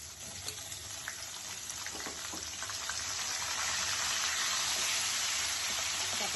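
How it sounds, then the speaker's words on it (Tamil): Onions sauté in a pan for vathakuzhambu with a steady, close sizzling hiss that grows slightly louder and fuller as it goes on, with no talking. "வெங்காயம் நல்லா போட்டு வதங்கிட்டு இருக்கோம்."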